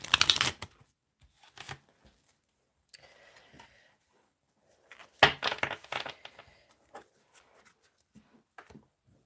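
Tarot cards are shuffled in quick crisp bursts, riffling and slapping together close up, with pauses between rounds and no talking.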